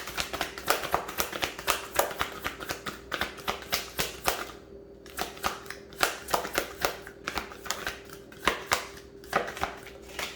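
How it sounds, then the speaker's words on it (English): A deck of playing cards being shuffled up close, with repeated riffles and bridges making rapid crisp flutters in bursts and a few brief pauses, with no talking. "This is just the wildest shuffling."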